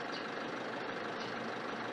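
A 2022 Isuzu D-Max pickup idles steadily after a remote start, its engine a constant, even drone with no talk over it.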